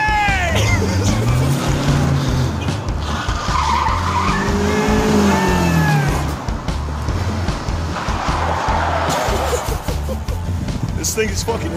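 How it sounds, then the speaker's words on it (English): A Mazda Miata rental car drives hard with its engine revving and tires skidding and squealing, loud and close, while people talk and laugh over it. "Nothing like a Miata."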